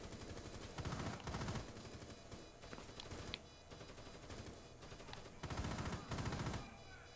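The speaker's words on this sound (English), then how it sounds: "Watch out, people shooting from up there." Bursts of automatic gunfire crackle in a counter-terrorist shooter game, heard as rapid rattling volleys that come in several separate bursts and sit fairly low in the mix.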